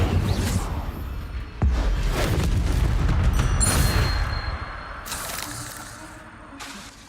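Fiery spell blasts from Incendio being cast in Hogwarts Legacy, loud whooshing bursts and booms layered over dense combat noise, with a sharp impact around the middle and fading crackles afterward.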